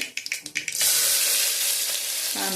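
Chopped onion sautéed in a pan for a Vidarbha-style brinjal and potato curry: a few quick clacks and taps, then a loud, steady sizzle that holds to the end.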